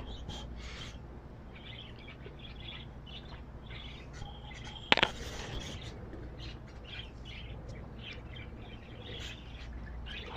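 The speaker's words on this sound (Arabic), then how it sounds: "هذا طير خياط" A tailorbird kept among caged birds calls in short, sharp chirps scattered across the clip, with one louder burst near the middle over steady low background hum.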